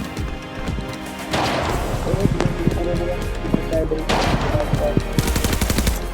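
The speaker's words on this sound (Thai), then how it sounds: "มีคนยิงกันหน้าหมู่บ้าน" In the Arena Breakout shooter game, weapons fire near a village as sharp gunshots and rapid automatic bursts crack repeatedly at mid-distance, with people talking over the shooting.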